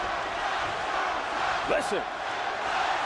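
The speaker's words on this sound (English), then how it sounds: "And the crowd really picking up now." A boxing arena crowd at the Mike Tyson versus Evander Holyfield rematch keeps up a dense, steady roar of cheering and shouting, with a brief louder yell rising near the middle and a commentator's voice over it.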